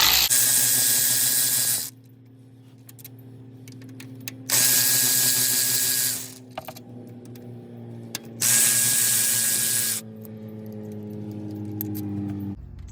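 A power tool removing 11mm bolts while replacing a governor pressure solenoid and transducer on a Dodge 46RE transmission: three loud bursts of whirring, rattling impact, each about one and a half seconds long, separated by quieter mechanical clicks and handling.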